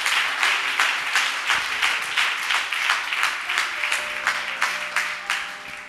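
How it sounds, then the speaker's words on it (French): A church congregation applauds in steady rhythmic unison, loud sustained clapping close by that carries on throughout, with faint tones of music beneath. "Put your hand together for the Lord."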